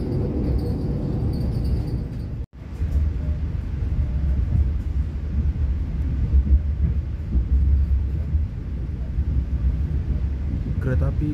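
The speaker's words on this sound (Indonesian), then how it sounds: "Kereta api Gaya Baru Malam Selatan melintas langsung stasiun Solo Jebres" An Indonesian Gaya Baru Malam Selatan express train runs through Solo Jebres station without stopping, heard as a deep, continuous rumble with wind rush that swells toward the end after a brief dropout near the start.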